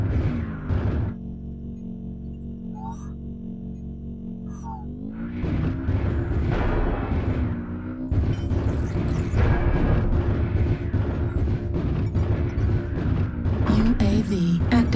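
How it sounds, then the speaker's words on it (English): An artillery strike lands in a video game as a low, sustained rumble that swells into dense, roaring booms partway through and keeps rolling steadily loud to the end. "Artillery strike online."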